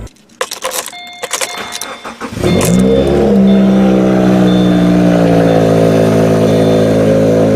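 A few clicks and rattles, then a 2017 Subaru Forester engine fitted with an aftermarket blow-off valve cranks and catches, settling into a loud, steady idle with a low rumbling hum.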